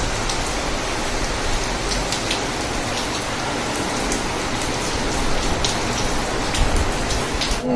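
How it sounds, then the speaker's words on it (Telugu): Heavy rain falls during festival time, making a loud, dense, continuous patter with a few sharper drips on nearby surfaces and no voices. "ఈలోపు వర్షం పడుతుందన్నమాట."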